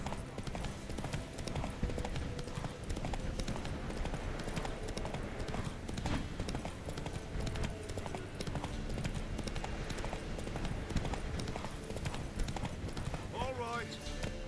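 Geralt's horse Roach gallops steadily in The Witcher 3, a continuous rhythmic clip-clop of hooves running the whole way at moderate level, with speech over it and a brief whinny-like call near the end.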